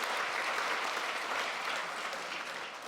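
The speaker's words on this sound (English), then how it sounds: "I think you can give yourself a round of applause for that." A crowd applauds steadily, a dense wash of clapping hands that holds throughout and fades slightly toward the end.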